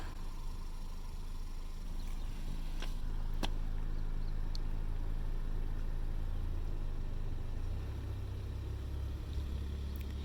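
A 2020 Hyundai Sonata edges out of its parking spot on its own under remote Smart Park control, giving a low, quiet, steady drivetrain hum with a couple of faint clicks and no voices.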